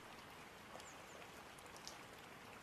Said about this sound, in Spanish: podemos apreciar que en estos momentos está lloviendo